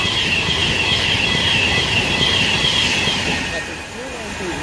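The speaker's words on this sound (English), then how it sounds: "And now getting ready to pass by is a Pendolino." A Virgin Trains West Coast Class 390 Pendolino, running from London Euston to Liverpool Lime Street, rushes past at Nuneaton on the West Coast Main Line. It makes a loud, steady, close roar with a high electric whine throughout, easing slightly toward the end.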